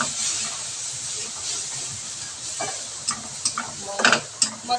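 Ground masala paste with water fries in a pan for a ridge gourd curry. There is a soft continuous sizzle and hiss, with a few louder stirring scrapes and spatters toward the end.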